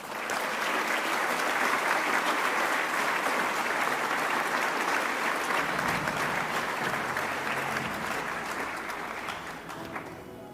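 Sustained applause from an audience at the Western Australia Australian of the Year awards ceremony, a dense steady clapping that carries on for about ten seconds before gradually tapering, with no speech over it.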